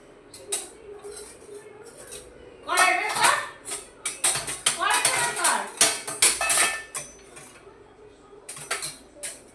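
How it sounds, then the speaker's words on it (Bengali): A metal spatula is pulled out, setting off a stretch of clattering utensils and pots with sharp, irregular clanks and scrapes close by. It starts sparse, grows busy in the middle and thins again, with a voice speaking now and then. "হ্যাঁ খুন্তি বের করেছে।"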